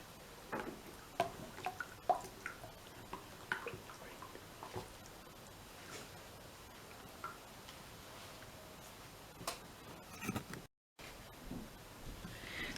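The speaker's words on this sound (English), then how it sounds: "I'm just going to hand stir that in." Cold process soap batter is stirred by hand in a container, giving soft, faint wet clicks and light scraping taps at an irregular rhythm, with a brief silent break near the end.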